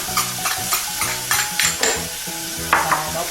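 Onion, green onion and garlic stir-fry in melted butter, sizzling steadily while a utensil scrapes and stirs the pan in repeated close strokes, with no talking.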